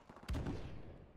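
Gunfire in a 3v3 Search and Destroy match on the Crash map of a video game: one close, loud shot or short burst rings out over a low background rumble.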